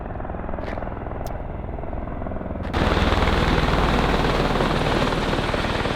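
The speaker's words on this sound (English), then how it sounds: "you have airplanes and helicopters taking off all the time" A helicopter's rotor chops steadily at an airport, then surges sharply louder partway through as the engine powers up, a loud close continuous thudding roar with no voices.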